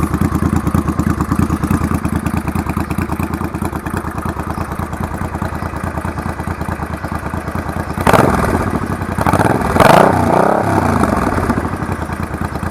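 A 1985 Honda VT500 motorcycle with loud slash-cut mufflers idles close by in a rapid, lumpy thrum, with two short throttle blips rising over it near the end.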